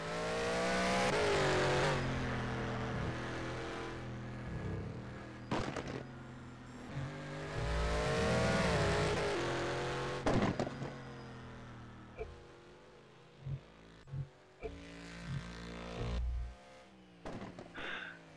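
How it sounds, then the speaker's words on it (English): Nissan GTR race car in rFactor 2 multiplayer on the Nordschleife, its engine droning and revving with rising and falling gear sweeps, fading and returning as it passes, over a steady engine bed. "So we'll run with Mike Friends for a little while here with a beautifully painted Nissan GTR."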